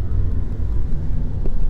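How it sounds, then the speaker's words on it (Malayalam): A Transport for Ireland bus passes close by in Ireland as a loud, steady low engine rumble that lasts the whole moment. "അയർലൻഡിലെ K S R T C bus ആണ് പോകുന്നത് കേട്ടോ."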